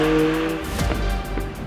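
A 2023 BMW M2 pulls hard under acceleration, its engine note rising loud and close in the cabin while tyres scrabble and squeal over a deep, steady rumble.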